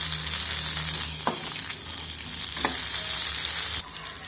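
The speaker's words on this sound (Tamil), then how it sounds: "ஸோ மெயினாக மிளகு ஜீரகம் கருவேப்பிலை அதை தாளித்து போட்டணும்" Pepper, cumin and curry leaves temper in hot oil for ven pongal, a loud, dense, continuous sizzle with a couple of faint clicks of a utensil, up close, easing slightly just before the end.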